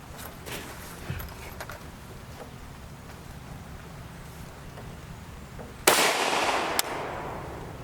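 A 10.3-inch FN PS90 short-barreled rifle fires 57-grain copper hollow point 5.7x28mm rounds outdoors. Two sharp, loud shots ring out about a second apart after a quiet stretch of faint background noise.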